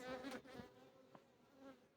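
Honey bees buzzing close by around a hive, a dense droning hum with a few louder passes, no voices.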